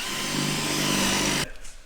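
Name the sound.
drilling out spot welds in aluminium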